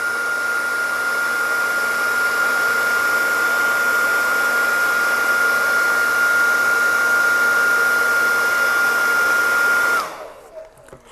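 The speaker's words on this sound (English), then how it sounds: "Gently moving the head of the hairdryer up and down as we go." A hair dryer heating a Valaverse Action Force figure blows steadily with a constant high whine for about ten seconds, then switches off and winds down.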